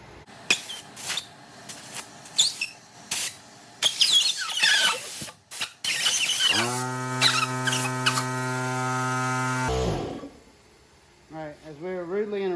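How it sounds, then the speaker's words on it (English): An air compressor in a workshop where a Honda XR100R is being restored starts up with a loud, steady motor hum that runs for several seconds, then cuts off abruptly, with clatter and voices around it. "as we were rudely interrupted by the air compressor"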